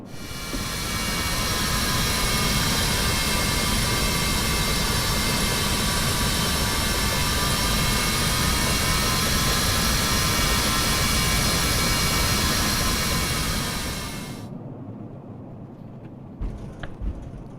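An Embraer Phenom 300 jet in a flight simulator game taxis at Anchorage airport toward runway 15. A loud, steady engine roar carries a high whine that stays constant, then cuts off abruptly near the end, leaving faint clicks.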